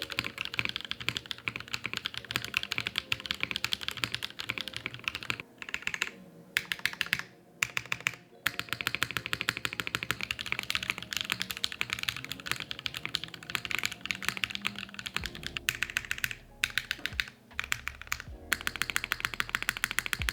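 Continuous fast typing on a Neo65 Cu mechanical keyboard, close and crisp, with dense clacking keystrokes and a few brief pauses; no voices.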